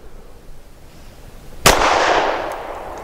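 A Sig P365 XL pistol fires a single sharp, loud crack after a quiet stretch, followed by a lingering ringing decay.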